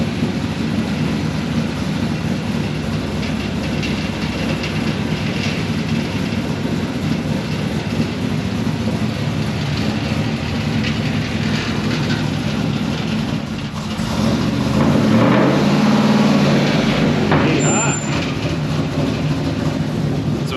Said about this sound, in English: see if four-wheel drive works to pull the car off the dyno